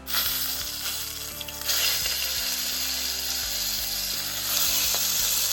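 A deer testicle sears face down in a hot pan, giving a loud, steady sizzle and crackle that runs the whole time, with a brief lull and then a swell partway through. Faint low tones and clicks sit underneath, and nobody speaks.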